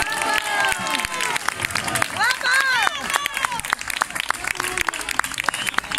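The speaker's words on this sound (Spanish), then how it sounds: "un aplauso para él" Audience applause after a flamenco alegrías performance, steady clapping with crowd noise across the whole stretch, with cheers and shouted voices rising over it.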